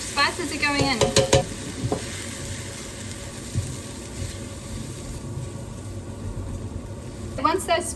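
Spices sizzle and fry in a pan for a red lentil curry, with a spoon stirring and scraping in bursts near the start and end, and a steady low frying hiss in between.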